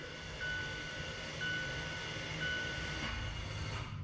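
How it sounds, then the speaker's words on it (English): A low mechanical whir from a Mazda CX-5 electric parking brake motor retracting rear caliper pistons runs steadily under broadband rumble, with faint whining tones repeating about once a second; no voices. "That's the electronic motor pulling those pistons inside of the caliper back in."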